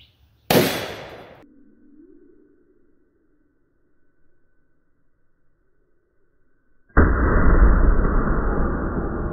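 A magnum revolver in a .454 versus .460 recoil comparison fires one loud, sharp shot that rings out briefly, and after a quiet pause a harsh, sustained blast noise takes over to the end.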